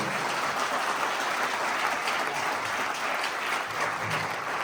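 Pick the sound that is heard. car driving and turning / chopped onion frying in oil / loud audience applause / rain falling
loud audience applause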